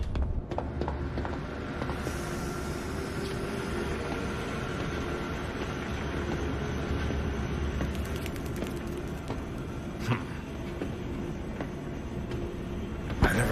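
A gadget trolley rolling along a track in the video game Zoochosis, a continuous rumbling rattle with clicking mechanical knocks and a few sharper clanks, steady and fairly close.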